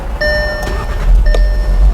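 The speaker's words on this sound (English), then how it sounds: "Hold it down for about 3 seconds, cranks the car up, she's alive" A 2016 Volkswagen Beetle Convertible starts with its push-button ignition: two electronic chimes ring out close by while the engine catches and settles into a steady low idle rumble.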